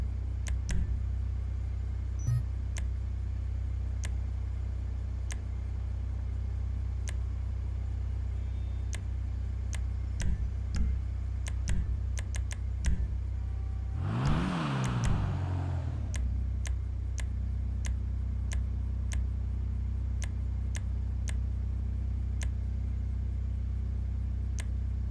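Dinka Blista Kanjo, a 1997 Civic Type R-style car in GTA 5 Online, with a low steady engine idle rumbling throughout, a brief rising rev sweep near the middle, and scattered clicks.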